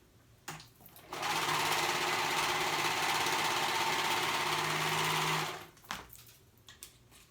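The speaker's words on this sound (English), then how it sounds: "And I'm gonna sew those 2 raw edges together." A sewing machine stitches raw corduroy edges together for a paper bag skirt, whirring in one continuous run of about four seconds between faint clicks and handling noises, heard close and alone.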